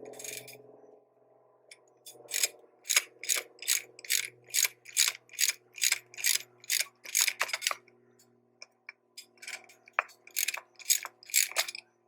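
Vice grips clamp the strut cylinder while the top nut is worked loose on a 2008 Subaru Tribeca, producing a rapid run of sharp metallic ratcheting clicks in close bursts, pausing briefly, then resuming near and loud.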